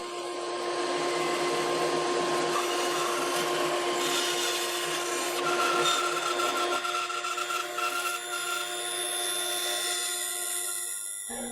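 A bandsaw fitted with a 1/4 inch blade cuts a carving blank out of a wood block. It gives a steady, loud whine with a rasping edge that runs unbroken for about eleven seconds and then cuts off abruptly.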